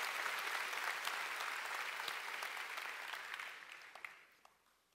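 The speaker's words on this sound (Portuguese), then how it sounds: "Vamos dar um aplauso para esses amados." A church congregation applauding together, a dense, even patter of many hands that carries on steadily for a few seconds and then fades out toward the end.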